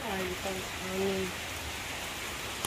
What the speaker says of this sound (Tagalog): ni bunok ang ulan na eh